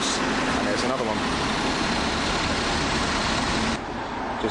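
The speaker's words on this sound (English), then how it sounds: "That's a bus, and there's another one." Buses pass along Princes Street in Edinburgh, a busy shopping street, making a loud, continuous roar of engines and road noise that fills the scene, with a voice talking over it.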